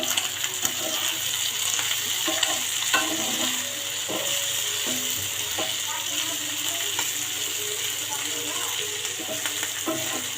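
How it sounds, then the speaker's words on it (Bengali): Cumin seeds and shahi garam masala sizzle and crackle steadily in hot oil for a Bardhaman-style bhuna, with scattered pops and occasional utensil scrapes, close and continuous throughout. "দিয়ে দেবো কিছুটা শাহি গরম মশলা দিয়ে একটুটুকু জিরা ফাটি"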